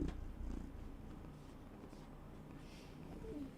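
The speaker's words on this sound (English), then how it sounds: "You hear the purr?" A house cat purring softly up close, a faint low rumbling flutter that continues steadily through the short stretch with no talk.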